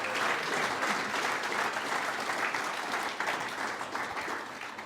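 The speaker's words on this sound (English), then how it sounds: "let's give one big round of applause for all our worthy winners for 2025" A large audience applauds the winners at the 2025 Tipp FM Sports Star of the Year awards, steady, full clapping from many hands that holds strong throughout and eases slightly at the close.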